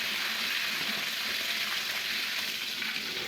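Chicken fries in hot oil with a dense, steady sizzle and crackle, close and continuous throughout with no talk.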